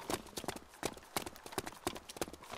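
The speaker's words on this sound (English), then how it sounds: "There's a goat." Goat hooves clip-clop in a video game, a quick, uneven run of hard taps with sharp attacks, fairly close and clear, with no talk over them.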